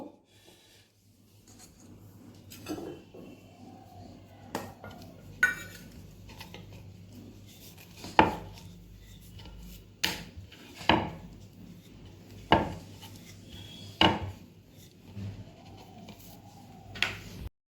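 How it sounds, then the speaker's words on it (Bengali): Stuffed hing kachori dough balls are rolled out one after another, giving soft repeated wooden rubbing and light knocks of a rolling pin on a board, with a few sharper taps spaced through the quiet, close-up stretch. "আমি এবার এক এক করে বেলে নেব।"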